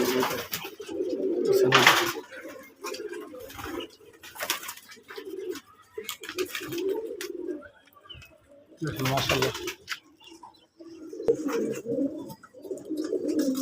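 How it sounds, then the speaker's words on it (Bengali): Pigeons coo steadily in low, throaty bursts close by on a pigeon farm, with people talking over and between the calls. "এই দেখেন আমার কবুতরগুলা"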